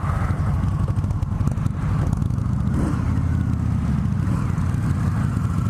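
A 2017 Indian Scout motorcycle pulls away as the clutch engages, its engine a steady, close, fairly loud rumble that keeps going through the whole stretch, with no talking.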